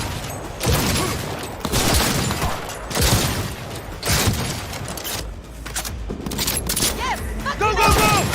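Gunfire in the video game Cyberpunk 2077, with bursts of shots and booms over a dense battle mix, while voices talk and shout over the action throughout.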